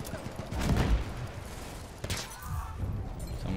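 Sniper rifle fire in Battlefield 1, a sharp crack followed by a rolling boom around the first second, then a second distant report and a gritty battlefield ambience with scattered gunfire behind it.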